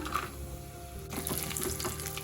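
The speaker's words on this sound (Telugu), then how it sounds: "దానిలో ఫస్ట్ నెయ్యి వేసుకుందాం ఇందులోకి బాదం బాదం నేను కొంచెం క్రష్ చేసేసాను అలాగే క్యాష్యూ కూడా" Crushed almonds and cashews fry in ghee in a small pan, giving a soft, close sizzle with light crackles. It brightens after about a second, with scattered pops over a low steady hiss.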